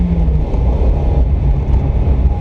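A Mazda Miata engine pulls hard at full throttle, a steady loud drone with rising tone that holds close and continuous for the whole stretch, with no talking.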